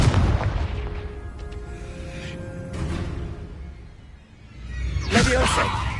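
Confringo fire-spell blasts in Hogwarts Legacy go off as deep booming explosions with rumbling tails, followed by a bright crackling burst near the end.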